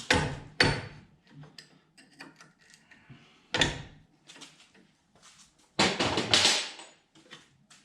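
Hammer blows on a Suzuki Samurai suspension part during shock tower installation, a few sharp metallic strikes spaced unevenly among quieter clinks and mechanical rattles.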